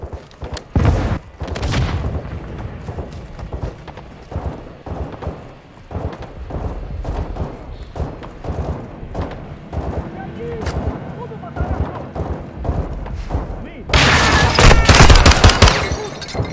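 Heavy combat in the Call of Duty: Modern Warfare 2 game: rocket blasts and rattling gunfire crack in dense bursts, with a loud burst of explosions near the end, while voices talk over the fighting.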